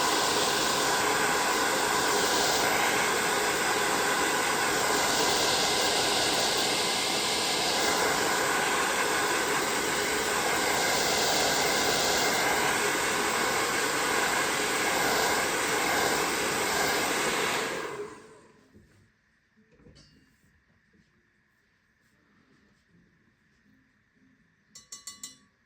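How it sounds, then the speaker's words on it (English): A hair dryer blows steadily and loudly over a wet-on-wet watercolor painting of a ballerina, a constant broadband hiss for most of the stretch before it cuts off abruptly, leaving near silence with a few small clicks at the end. "I use the hair dryer and keep some area"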